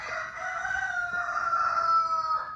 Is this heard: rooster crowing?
yes